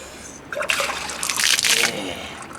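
Spring water gushes and splashes into an RV tank for about a second and a half, a brief bright rush after a quiet start, fading out at the end.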